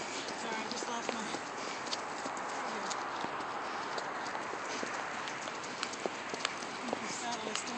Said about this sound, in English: Nice little canter she's doing.